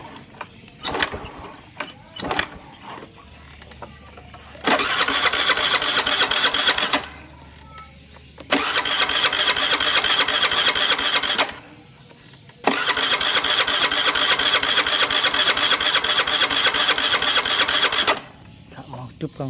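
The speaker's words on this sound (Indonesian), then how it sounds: "Di engkol nih, engkolannya berat juga." A Honda Beat fuel-injected scooter is kick-started by hand. A few sharp cranking clatters come first, then the engine catches and runs loudly in three bursts of several seconds each, falling quiet between them.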